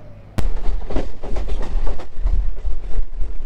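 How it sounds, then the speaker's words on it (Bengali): A local train runs on the rails into Bardhaman Junction: a sudden loud onset followed by continuous close, heavy rumbling and rattling with irregular clattering knocks. "পুরো এক্স্যাক্ট টাইমে বর্ধমান জংশনে ট্রেনটা ঢুকিয়ে দিল।"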